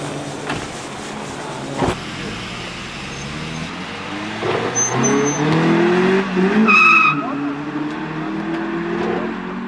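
A modified Honda Civic street car pulls away with a rising engine note and a brief tire squeal. It is loud and close, with road noise and some voices mixed in.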